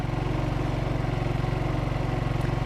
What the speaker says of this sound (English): It's much quieter than the original generator too. It's still running at about 2100 watts.